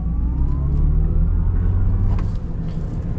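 A new Chevy Silverado RST EV electric truck drives along with a low, steady road rumble and tyre noise from inside the cabin, without pauses.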